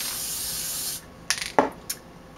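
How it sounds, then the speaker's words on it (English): A sustained hiss of an aerosol glitter spray can releases for about a second, then stops, followed by a few light clicks and rattles. "Shake your spray. Make sure you've shaken it well."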